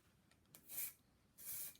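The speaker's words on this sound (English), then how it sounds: "I'm going to give it a quick spray" Spray paint hisses in two short bursts onto a dried leaf skeleton, each blast about a quarter second long with a quiet pause between, close and fairly soft with no talking.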